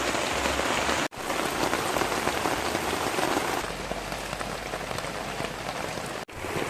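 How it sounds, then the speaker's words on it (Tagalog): Continuous rain pours on a beach campsite, a dense steady patter of drops striking a surface, close and loud, with two brief cut-outs in the sound and no speech. "tuloy-tuloy na ulan pala ang kasunod nito"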